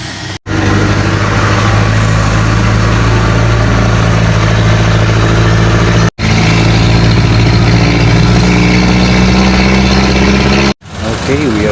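Jeepney engines idle in Baguio City traffic, a steady low rumble that runs loud and close throughout with a few brief dropouts, while voices talk over it.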